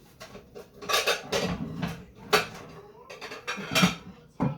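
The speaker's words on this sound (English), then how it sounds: "Now I'm going to find a 9-inch pan to cook it in" Baking pans clatter and clank as someone rummages through metal bakeware for a 9-inch pan, with irregular close-up bangs and scrapes of varying loudness.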